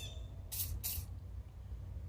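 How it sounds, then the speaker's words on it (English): Two quick bursts of CLP gun cleaner aerosol spray hiss close by onto an AR-15 firing pin, separated by a short pause, over a low background hum. "I'm going to spray it down a little CLP."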